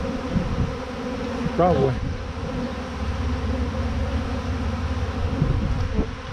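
A huge swarm of honeybees flies around during a beekeeping capture, making a dense, constant buzzing hum all around. A person speaks briefly over it.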